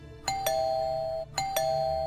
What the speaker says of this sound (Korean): 누가 초인종을 누르더래요